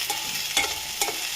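Okra (ladies' finger) frying in a pan, a soft continuous sizzle broken by three quick scraping stirs.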